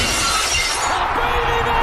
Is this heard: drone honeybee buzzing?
no